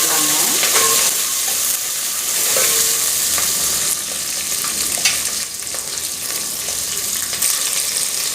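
Small shallots with dried red chillies and cumin sizzling and being stirred in hot oil for South Indian sambar, a steady close frying hiss with occasional spoon scrapes throughout, no talking.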